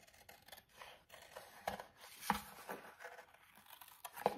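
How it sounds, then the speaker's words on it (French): Scissors cut a paper piece from a sheet at close range, giving a few crisp, quiet snips spread through a soft backdrop of light handling rustle, with no voices. "je pense que je vais le découper comme ça"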